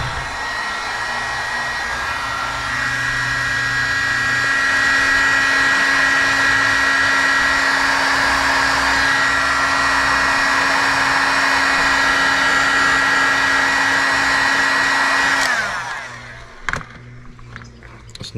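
A heat gun blows hot air steadily at close range to shrink tubing over a small wire, a loud continuous whine and rush that cuts off near the end and leaves near silence.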